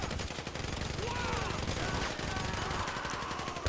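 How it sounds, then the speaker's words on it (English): Sustained machine-gun fire from a firearm in GTA V, a dense stream of rapid shots running for several seconds at steady loudness, with game sounds layered underneath. "The machine gun has too much recoil."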